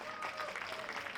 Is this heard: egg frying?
no